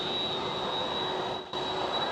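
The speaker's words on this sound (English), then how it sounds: "the screaming sound of the 767, wanting some attention" A Boeing 767 at Schiphol airport roars steadily with its jet engines. There is a loud, sustained broadband rumble topped by a thin high whine that holds throughout, with no speech.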